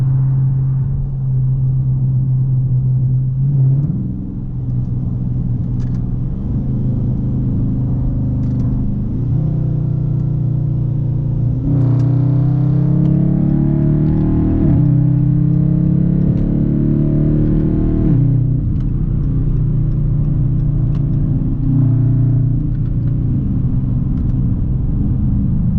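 Heard from inside the cabin, a Dodge Charger R/T engine gives a deep, loud rumble that rises and falls as it revs through several downshifts across the whole stretch.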